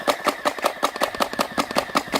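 An airsoft P90 fires a rapid, even full-auto burst of about a dozen mechanical cracks on a 7.4 volt 1300 mAh battery, close and loud with no talking.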